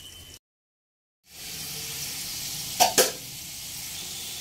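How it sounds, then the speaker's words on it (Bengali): Pieces of taro (mankochu) fry in mustard oil in a kadai, giving a steady hiss that starts after a short silence, with two brief sharper bursts partway through. "মানকচুগুলোকে হালকা লালচে করে ভেজে নেব।"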